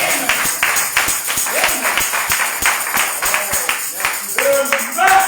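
Church congregation clapping in a steady series of sharp, dense claps, fairly loud and close, with voices and singing-like tones mixed underneath.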